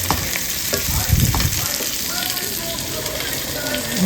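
Hilsa fish tail with garlic, onion and green chillies sautéing in a pan: a steady close sizzle and frying hiss with stirring scrapes, continuous throughout.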